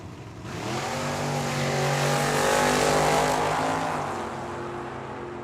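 Drag race at Tucson Dragway with a Mustang in the right lane against a Nova in the left, engines roaring loud and steady as they launch and accelerate down the strip, a rising harmonic howl that swells then eases.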